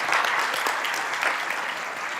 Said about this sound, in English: Can we get another round of applause for our retirees and our tenures?